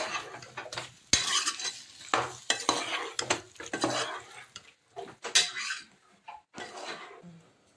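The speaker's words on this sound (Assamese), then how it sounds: "এতিয়া মেৰিনেট কৰা মাংসখিনি ইয়াত দি দিম" Marinated chicken for a curry tumbles into a pan with clattering pieces and a utensil stirring against the metal, sizzling in bursts between scrapes and knocks, close up with no talking.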